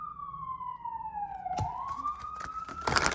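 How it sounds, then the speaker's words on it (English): A police siren wails, sliding down then back up in a long sweep, with sharp clatters and bangs breaking in near the end. "I'm hearing those sirens, Virg."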